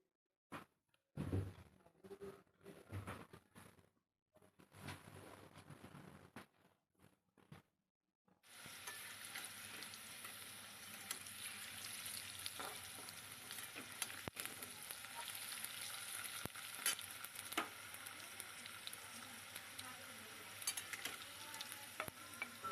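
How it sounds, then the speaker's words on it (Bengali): Potatoes drop into hot oil after some quiet handling, then fry with a steady, moderately loud sizzle and crackle that continues without talk. "এবার দেখো, আলুগুলো একটু তেলে ভেজে নেব।"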